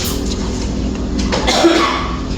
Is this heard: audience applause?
no